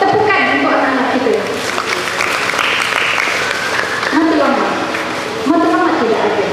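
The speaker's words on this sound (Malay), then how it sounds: "Tepukan untuk anak-anak kita." An audience claps for the children at a religious talk, a steady wash of applause lasting several seconds with a voice speaking over it throughout.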